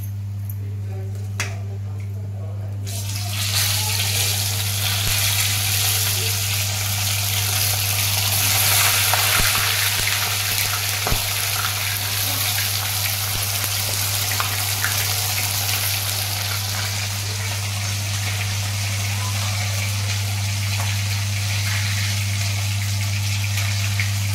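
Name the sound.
chilapi fish frying in a pan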